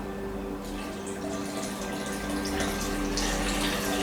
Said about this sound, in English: I'm going to add some more coconut water.